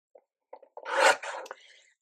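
Patterned paper being trimmed to card width, heard as a few small taps followed by a rasping, scraping cut about a second long, close and isolated with no voices.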